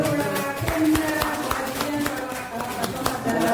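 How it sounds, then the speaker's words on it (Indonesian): Students applaud in a classroom, with scattered hand claps sounding fairly close and uneven, while voices carry on underneath the clapping throughout. "tepuk tangan untuk"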